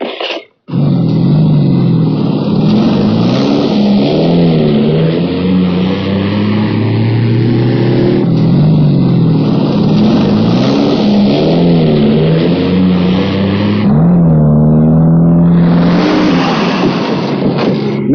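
A car engine runs loud and close throughout, with a steady drone that rises and falls in pitch as the vehicle accelerates and shifts, after a brief sharp start.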